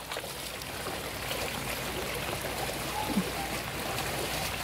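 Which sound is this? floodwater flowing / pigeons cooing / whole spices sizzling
floodwater flowing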